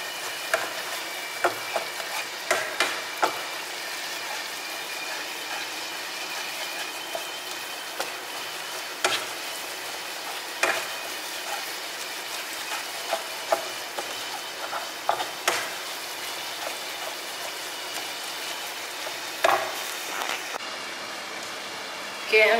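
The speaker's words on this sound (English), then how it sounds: "Stir in the flour and cook for 2 minutes." Flour being stirred into a pan over gentle heat for a San Remo lasagna sauce, with soft steady sizzling and scattered spoon scrapes and taps against the pan throughout.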